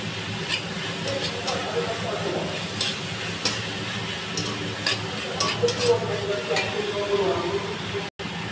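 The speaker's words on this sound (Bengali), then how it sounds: "তেল একদম সামান্য অল্প একটুখানি দিয়েছি, দিয়ে ভালো করে নাড়বো" Fish chop mixture being stirred in a little oil in a worn kadai over medium heat, with a steady soft sizzle and scraping under continuous room noise.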